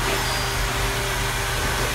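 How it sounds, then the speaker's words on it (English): Samsung Powerbot robotic vacuum cleaner running steadily, a close and constant motor whir with a faint tonal hum and no pauses throughout. "you just tell it to start, and this is more like a canister vacuum"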